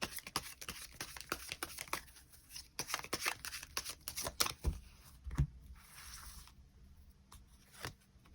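Tarot cards being shuffled and drawn: a run of quick, close riffling snaps and soft slides, with a few sharper taps as cards are laid down, no talk.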